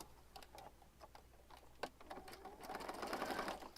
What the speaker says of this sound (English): I'm going to stitch around this piece